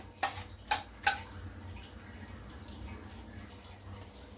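Two tablespoons of pistachios sautéing in ghee in a pan, marked by three sharp spoon-on-pan clinks early on and then a faint, quiet sizzle.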